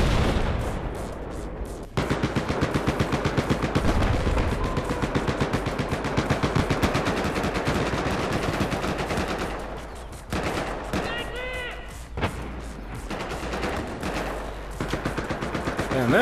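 Gunfire in Battlefield 4 fills the whole stretch with rapid, loud machine-gun bursts that run almost without a break, and a short pause and some fainter shots come near the end.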